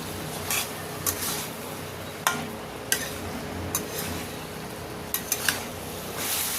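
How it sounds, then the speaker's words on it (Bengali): A hilsa fish head chorchori with eggplant and potato is stirred in a pan, giving sparse scraping clicks of a spatula against the metal at irregular moments over a soft steady background hiss. "চাপাটা খুলে 1 মিনিট মতো নাড়াচাড়া করে নিলাম বা ফুটিয়ে নিলাম"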